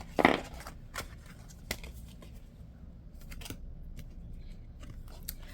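Tarot cards slid and shuffled aside across a table, a sharp papery snap near the start followed by soft scattered rustles and light taps, close and fairly quiet with no talking.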